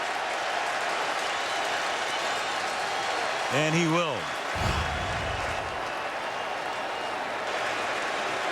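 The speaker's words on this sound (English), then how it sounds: "the crowd is saying, throw that flag." A football stadium crowd at an Eagles home game against the Bears roars as a play goes to review, a constant loud din under a commentator's voice with a brief horn-like tone midway.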